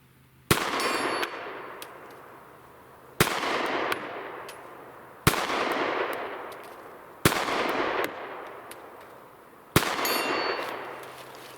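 Five Sig P365 pistol shots fire one at a time a couple of seconds apart, each a sharp crack followed by a long ringing metallic decay as a 12-inch steel plate at 80 yards is struck, outdoors with no talk.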